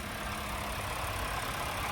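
Steady engine idle from a 2024 Mitsubishi Outlander LE, a continuous broadband hum with low rumble held evenly throughout, close and moderately loud, no talking.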